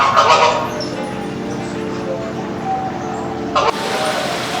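Birds call inside a butterfly house in Key West, with loud honking, goose-like cries up close at the start and again near the end over a busy ambient background.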